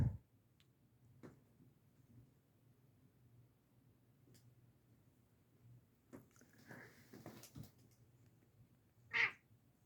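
A single short cat meow rings out near the end, close and fairly clear, after quiet room hush with a few soft clicks and rustles.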